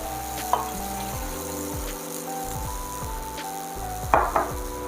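White wine poured into a hot pan of floured beef for a stew, a steady close sizzle with a few sharp spits and utensil clinks, while background music plays.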